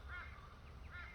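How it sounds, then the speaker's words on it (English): A crow caws twice, two harsh calls about a second apart, faint and somewhat distant over a low steady background rumble. "You're listening to the crow."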